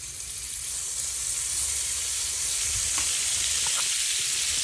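Butter sizzles steadily in a pan on the stove, a continuous hiss with a few faint stirring clicks, close and alone with no talking.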